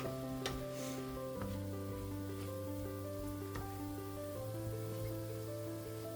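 Black pepper stirred into ground beef frying in a pan gives a steady, close sizzle with occasional spoon scrapes, all under continuous tonal background music.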